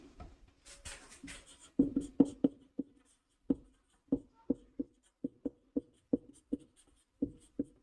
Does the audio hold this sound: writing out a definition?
yes